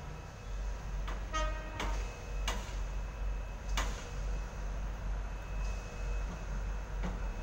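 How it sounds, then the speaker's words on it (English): A Sydney suburban train pulls into the platform at Camellia with a low rumble, a series of sharp clunks and brief tones, and a faint steady hum. "S66 arriving into platform 1, the only platform here for a Carlingford service."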